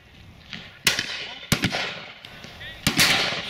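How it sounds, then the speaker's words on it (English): Shotguns fire at a pheasant and partridge shoot in Dorset: three sharp, loud reports, one at a time, each followed by a rolling outdoor echo, with people talking faintly in between. "One shot there."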